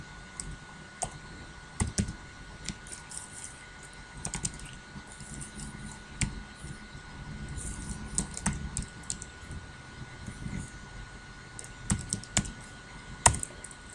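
Keys clack on a computer keyboard during work in a Linux system, irregular close taps and occasional harder strokes over a faint steady hum.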